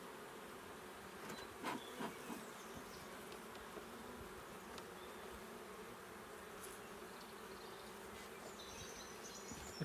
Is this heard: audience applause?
no